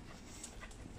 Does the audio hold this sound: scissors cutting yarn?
no